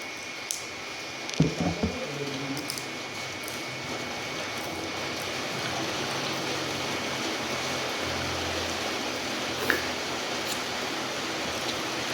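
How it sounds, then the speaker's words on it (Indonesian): Heavy rain pours steadily as a broad, even hiss that fills the whole clip at moderate level, with a few brief knocks and thuds near the start and no talk. "Wah, deras banget. Hujannya."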